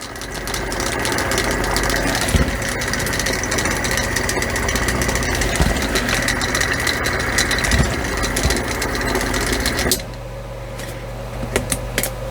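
A hobby paint mixer shakes a jar of paint with a loud, steady, vibrating mechanical buzz for about ten seconds, then stops, leaving a few faint knocks.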